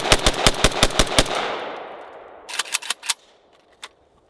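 A VSKA rifle fired outdoors during a 6,000 round endurance test: a rapid string of loud, close shots with a long rolling echo, then a second shorter burst and one final shot.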